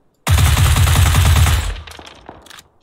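Rapid automatic gunfire in PUBG, a loud, close burst of about a second and a half that stops abruptly, followed by faint scattered clicks and shuffling.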